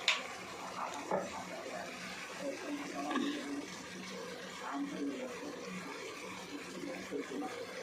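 Raw mustard oil poured over a cooked dish in a home kitchen, a soft continuous trickling and splashing of liquid lasting several seconds, fairly faint and without talk.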